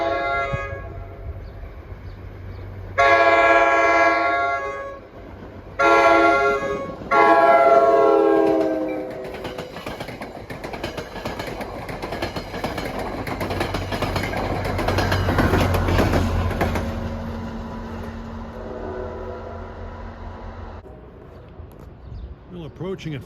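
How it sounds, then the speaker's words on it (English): A PL42 locomotive on commuter train 1165 sounds its unrestricted K5LA horn in northern New Jersey, with loud sustained multi-chime blasts in short bursts over rumbling rail noise as the train approaches. "It's got a PL42 with a nice unrestricted K5LA, sounds like."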